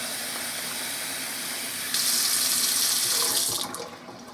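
Water runs from a kitchen tap into a sink, a steady gushing stream that briefly intensifies before being shut off near the end.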